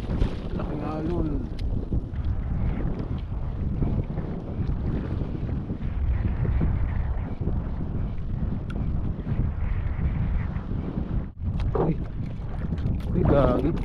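Strong wind buffets a small fishing boat out on choppy water during ultralight fishing, a steady loud rush that runs under the whole stretch, with brief voices breaking in near the start and the end.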